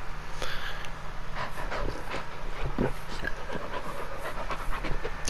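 A dog in the Blair Witch video game pants rapidly and steadily over several seconds, close and clear, with faint snorts and a low background rumble.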